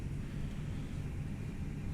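Simulated engine spool-up of an Airbus A319 airliner in a flight simulator game: a steady, loud low-pitched rumble and roar that holds constant without breaks and with no talking.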